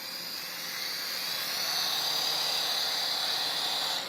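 A Syma S107 remote control helicopter hovers nearby, its small rotor and motor giving a steady high-pitched whine with a hissy buzz that swells slightly louder midway and holds on, with no talking.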